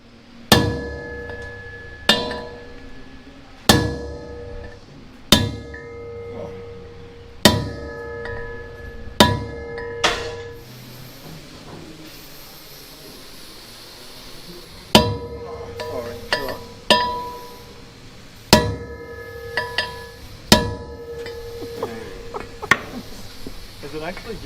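Heavy hammer blows ring out against heated bolts on an old combat tank, sharp metallic strikes in irregular clusters with a pause midway, close and loud, with brief talk between hits.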